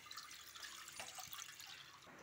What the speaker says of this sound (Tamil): இப்போ தண்ணி வந்து சட்டியில் ஊற்றி சூடு பண்ணிடுங்க